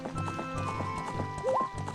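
Steady clip-clopping of a horse's hooves in Zelda: Ocarina of Time, with game music playing and a short rising tonal blip partway through, no talking.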